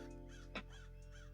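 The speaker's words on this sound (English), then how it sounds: "There are sometimes birds screaming in the distance," Crow-like birds screaming in the distance, produced by a lo-fi ambience generator, give a single faint harsh caw over a steady low electronic hum and soft background tones.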